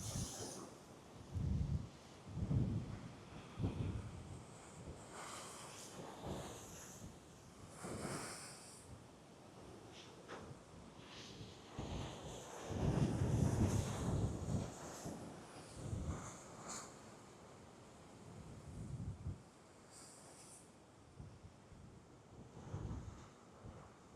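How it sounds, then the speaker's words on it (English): Large ocean waves crash in repeated heavy bursts against the rocky shore at Portland Bill, Dorset, during Storm Bram, mixed with gusting wind buffeting the microphone. "Now there's some waves coming over."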